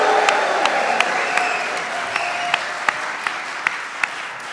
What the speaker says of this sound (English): we need applause and cheering